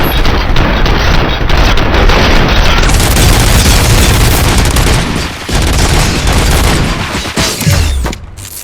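Heavy, continuous gunfire in the first-person shooter RoboCop: Rogue City, loud and close, with booming shots and rapid bursts blending into a dense roar that barely lets up, a brief dip before it resumes.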